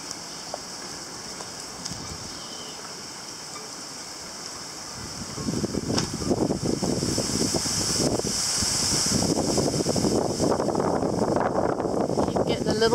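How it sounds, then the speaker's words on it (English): Steady outdoor wind buffets the microphone, quieter at first and then swelling into a louder, continuous gusty rush from about five seconds on, with low rumbling gusts throughout. "Lots of wind over there."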